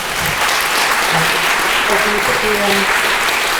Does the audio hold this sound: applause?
yes